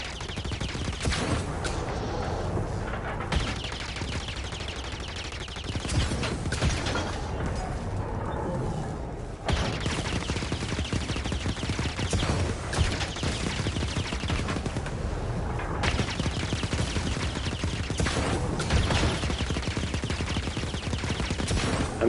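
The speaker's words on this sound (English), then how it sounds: "Everybody's shooting at this thing." Sustained gunfire from many weapons aimed at a ship in Star Wars Jedi: Fallen Order: dense, continuous machine-gun bursts and blasts at a steady, loud level for the whole stretch.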